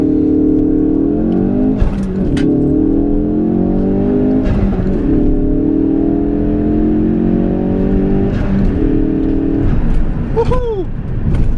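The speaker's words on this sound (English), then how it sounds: "you'll sit at 5k revs and then you just sort of dump the clutch and go" A manual 345 bhp Ford Focus RS launches from a standstill with launch control, its engine held at high revs and then pulling hard through the gears. Loud, steady engine drone from inside the car with brief breaks at the shifts.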